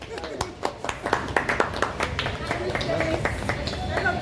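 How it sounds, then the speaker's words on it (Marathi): A small group claps in a burst of uneven, close hand claps that settle into a denser patter, with voices talking underneath at a team outing. "तर टाळ्या."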